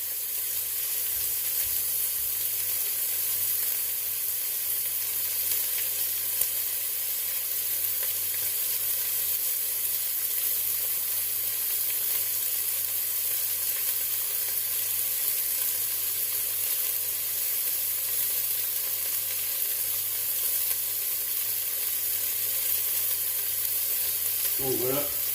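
Chicken fillets brown in a pot with a continuous, even sizzle and hiss that holds steady and close throughout, with a faint voice at the start and near the end.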